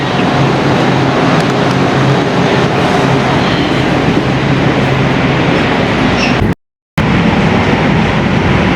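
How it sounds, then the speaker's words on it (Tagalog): A metro train arrives at East Los Angeles station with a loud, continuous rumble and rattle of wheels on rails, close by, cut by a brief silent gap near the end. "Ayan na yung train."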